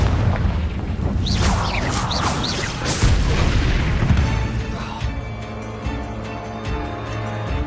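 Confringo fire-blast spells detonating in Hogwarts Legacy, a series of loud booming explosions with crackling bursts and rumbling tails, close and dense through the first half before settling into lower rumble.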